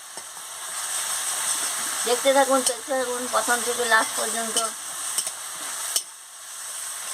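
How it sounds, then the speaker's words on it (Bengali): Spices with kalonji and watered mustard paste sizzle and spatter in a pan. The steady close frying carries on under a voice talking in the middle of the clip. "ভালো করে আমি মশলাটাকে ভেজে নিচ্ছি।"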